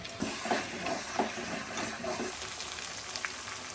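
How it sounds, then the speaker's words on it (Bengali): Mutton pieces sautéing with spices in a pan, a faint, soft sizzle with small crackles and hisses, quiet and steady throughout. "মাংসগুলো ছেঁকে নিয়ে ওই মশলার সঙ্গে একটু কষিয়ে নেব।"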